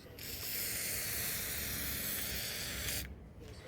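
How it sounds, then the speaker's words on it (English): WD-40 sprayed onto the ends of old scrap motors, a single loud continuous aerosol hiss lasting about three seconds before cutting off, followed by quieter handling noise. "I have WD-40 and I'm going around"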